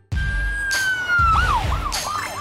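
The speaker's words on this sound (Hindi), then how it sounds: "पुलिस की गाड़ी।" A cartoon police car siren wails loud and close, a rising-and-falling electronic tone that sweeps through several quick yelps, with bursts of bright noise alongside.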